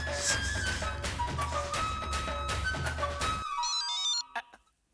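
An incoming-call phone ringtone plays as a repeating melodic pattern of bright tones for several seconds, then cuts off abruptly and leaves a few faint high chirps before going quiet.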